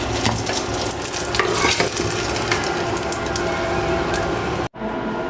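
Eggplant slices frying in very hot oil in a pan, a loud dense sizzle with crackling and stirring scrapes that carries on alone before a sudden brief break.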